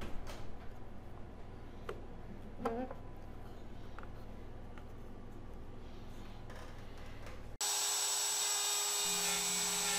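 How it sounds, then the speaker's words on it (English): A router fitted with a straight cutter bursts to full, loud whine near the end as it plunges into a backer board guided by a template, after a long quiet stretch broken only by a few light handling clicks. "So just plunge this straight cutter in slowly and then move back and forth maybe a couple of times over the template"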